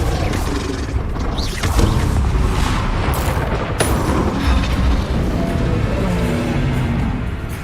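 Dense, continuous magical combat effects from Hogwarts Legacy, with spell blasts, booms and whooshing bursts layered into a loud, busy wash.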